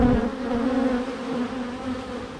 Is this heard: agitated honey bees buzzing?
yes